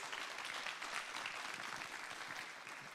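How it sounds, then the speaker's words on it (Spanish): An audience at the JONAGRO 2022 event applauds a speaker, a steady wash of many hands clapping that sounds rather faint and distant and lasts throughout with no speech. "Un aplauso."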